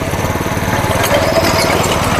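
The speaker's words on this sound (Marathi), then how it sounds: "हाफ गिअर जर पडला अर्धवट तर तुम्हाला तसा आवाज येतो" A 7hp chain cultivator engine runs with its gear only half engaged, a loud, steady, close mechanical chugging with a rapid pulsing rattle and no voices over it.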